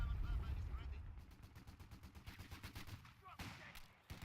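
Rapid bursts of MG42 machine gun fire rattle through a video game battle in the Caen campaign, a rhythmic stream of shots over rumbling low combat noise, with a voice talking across it.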